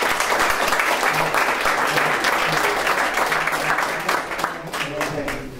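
A school forum audience gives a sustained round of applause, dense and steady throughout, with some voices mixed in beneath the clapping.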